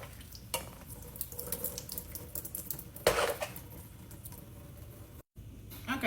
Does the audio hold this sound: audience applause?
no